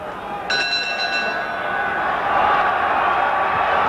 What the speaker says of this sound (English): And this crowd at Wembley now really roaring Finnegan back into this.